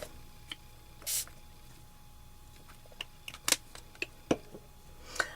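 Short hissing bursts of glimmer mist spray onto a box while making a mixed media canvas, one near hiss early, then a strong burst midway among scattered clicks and taps, with a last spray near the end.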